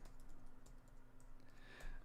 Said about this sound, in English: I'm going to type in MailChimp